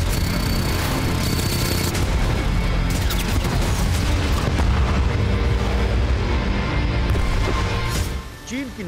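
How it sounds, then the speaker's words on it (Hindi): Chinese navy warships fire heavily on American warships, including USS McCain and USS Somerset, in the South China Sea: a loud, dense, continuous barrage of booms and crashing blasts that fills the whole stretch and eases briefly near the end. "चीन की नौसेना ने अमेरिकी युद्धपोतों पर ताबड़तोड़ फायरिंग की"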